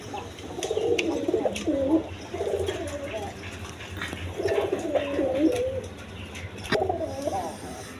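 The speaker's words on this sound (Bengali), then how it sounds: "দর্শকবৃন্দ, এখানে এক পেয়ার কবুতর আছে" Pigeons, high-flying Giribaz and red-checkered birds kept in pairs, coo in repeated soft rolling phrases, several bursts close by over a low background hum.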